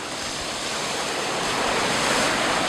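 Strong sea surf rolls continuously onto the sand at Bang Saen beach in Thailand, a steady loud wash of breaking waves with some wind noise on the microphone and no voices.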